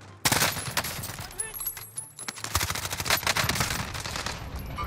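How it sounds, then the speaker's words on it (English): Rapid gunfire in Call of Duty: Warzone (Cold War), loud bursts of automatic fire and sharp shots packed closely together, continuing throughout with brief gaps, close and dominant over faint background game noise. "Who the fuck is shooting me?"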